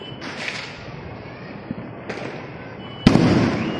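Sharp cracks of Diwali firecrackers at irregular intervals over a constant crackling din, with one louder bang near the end giving way to a denser roar.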